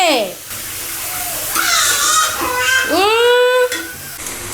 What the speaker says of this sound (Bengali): লাউ দিয়ে দিচ্ছি তেলে